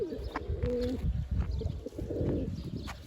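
Tumbler pigeons coo softly and repeatedly in a close, enclosed coop, their low rolling calls overlapping with faint rustling and a few brief chirps.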